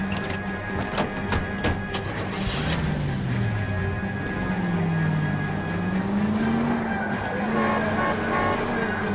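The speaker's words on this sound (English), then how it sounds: "looks like we're in a car chase" Car chase in L.A. Noire: a steady engine roar with rising and falling pitch as the car accelerates and turns, with tire squeals and a few sharp knocks near the start, loud and continuous.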